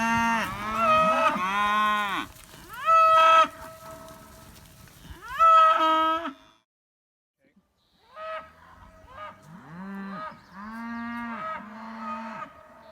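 Cattle moo repeatedly in a pasture, mostly red, dun and black-and-white cows, with loud drawn-out calls near and overlapping in the first half, a brief quiet gap, then more moos with some talk faintly under them.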